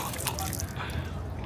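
Water runs from a public tap in Istanbul, a brief, close splashing and dripping patter over steady background noise.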